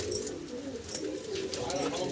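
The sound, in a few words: Kaldom pigeon cooing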